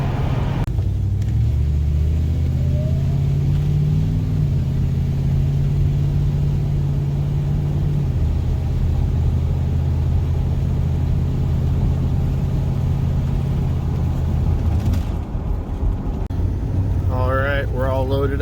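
A car cruises along a road at night toward Nashville, a steady low engine and road rumble with wind noise throughout, shifting in pitch early on, and a voice briefly at the end.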